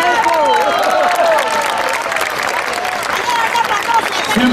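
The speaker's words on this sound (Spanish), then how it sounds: "fuerte el aplauso para el profe" A studio audience on a television program claps and cheers for a teacher, a loud, dense burst of applause with voices and shouts mixed in throughout.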